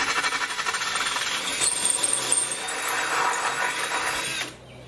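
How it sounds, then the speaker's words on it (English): A power drill bores out holes from 5mm to 6mm for a lawnmower throttle cable, with a close, loud whine that wavers under load for about four seconds before stopping abruptly. "So I just drilled these holes out."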